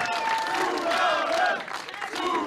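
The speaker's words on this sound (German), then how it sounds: "Danke nochmal, Applaus!" Concert crowd cheering and applauding at a show, a dense roar of many voices with whistles and shouts sustained throughout, fairly loud with a slight dip near the end.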